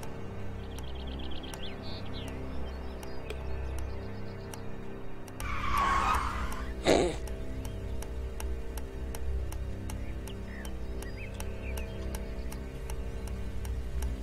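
A car in the video game Beyond Eyes sweeps past in one loud, brief broadband rush lasting about a second and a half, with a sharp peak near the end, over a steady ambient game soundscape of soft tones and ticks.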